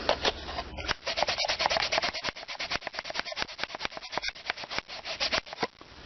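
Rapid, rhythmic rubbing strokes dry a video game cartridge's contacts, producing a fast, close scratchy scrubbing that continues steadily throughout.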